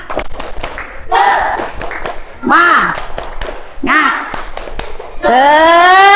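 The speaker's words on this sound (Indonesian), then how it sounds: "ayo kita tepuk semangat dulu" A primary school class performs a rhythmic spirit clap and chant: sharp bursts of unison clapping alternate with loud shouted group chanting, repeating in a patterned sequence close by.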